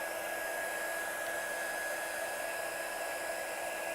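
A heat tool blows steadily while melting gold embossing powder from matte to shiny during die-cut stamping, a constant close whooshing hiss with no breaks and no talk.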